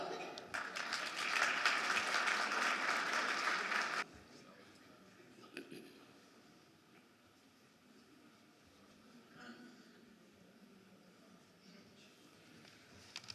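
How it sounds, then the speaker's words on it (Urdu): Full audience applause at an Urdu literary gathering welcoming a guest, dense and loud for about four seconds, then breaking off into a quiet room with faint murmurs. "آپ لوگوں سے التماس ہے، بھرپور تالیوں میں استقبال کیجیے جناب شوکت جمال۔"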